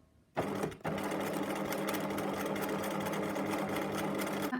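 A sewing machine starts up after a short pause and runs in a steady, close buzzing whir while stitching back and forth across an elastic casing seam in fabric.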